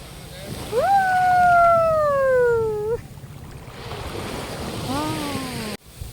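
Sea waves wash steadily onto the shore at Madhavpur beach, a constant surf roar with some wind, while a voice cries out loudly over it.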